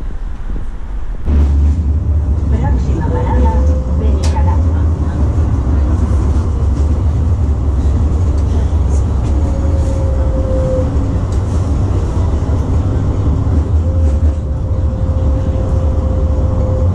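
A metro train at an outdoor station in Benicalap, Valencia, gives off a loud, steady rumble with faint whining tones and wind buffeting the microphone.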